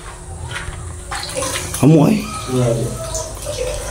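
Water runs from a household faucet at a house, a continuous splashing flow under voices talking nearby, with a brief louder gush partway through.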